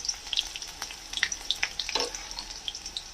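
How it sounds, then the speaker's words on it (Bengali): Chillies frying in hot oil for a Bengali poppy seed and flat bean dish, a steady close sizzle with scattered crackling pops throughout, no voices. "লঙ্কাটাকে ভাজা করে নেব"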